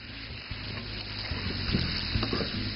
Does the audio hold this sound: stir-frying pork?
yes